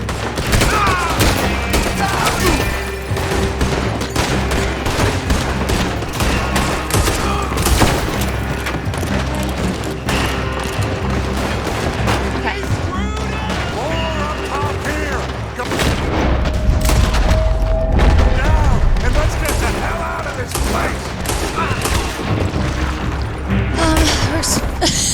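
Rapid gunfire and booming shots from the Western video game Red Dead Redemption II fill the scene in dense, continuous bursts, with heavier thumps midway and a player's voice occasionally heard over the shooting.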